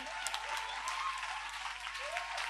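Church congregation applauding at a French-language worship service, a steady wash of clapping hands throughout. The applause is moderately close, with some voices faintly mixed in.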